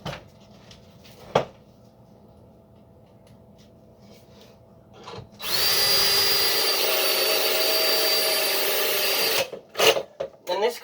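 Bolts being tightened to mount a Kobalt saw to a sturdy surface: a few knocks and handling sounds, then a loud, continuous power-driver whir lasting about four seconds, followed by several sharp clunks.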